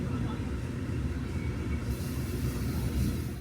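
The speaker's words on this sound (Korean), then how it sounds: "저 멀리 들어오는 KTX 이음 열차를 타고 오늘의 여행을 마무리해보려 합니다" A KTX-Eum train pulling into a station on the Donghae Line, a steady low rumble of rail noise with a brief rise in hiss midway, moderately near and continuous throughout.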